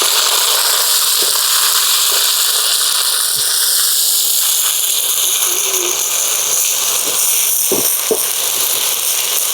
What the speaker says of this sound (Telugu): ఉన్న ఆనియన్స్లో అల్లం వెల్లుల్లిపాయ పేస్ట్ వేయాలి